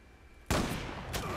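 A single sharp, loud gunshot from a sniper rifle in the online shooter Zula cracks out after a short quiet lead-in, its echo decaying with a faint second report near the end.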